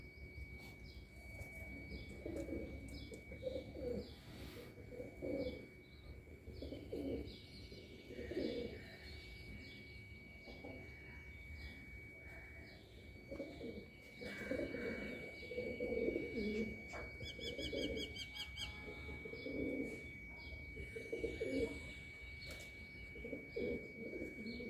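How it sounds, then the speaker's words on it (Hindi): Several pigeons coo in low, throaty bursts, close by in a pigeon loft, with occasional higher chirps from other birds mixed in. "ये जो ये काल सिरा सा कबूतर ये किसी का आके बैठा है।"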